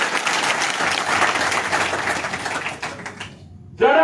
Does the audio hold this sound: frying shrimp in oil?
no